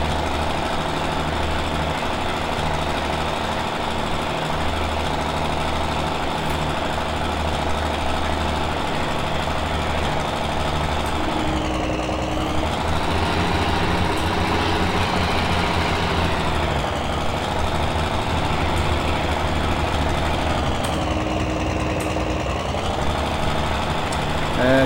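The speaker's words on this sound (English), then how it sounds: "I honestly can't hear you over the tractor." Tractor engine running in the farming game Farming Simulator 17, a loud, steady drone that holds unbroken throughout with only slight dips in pitch.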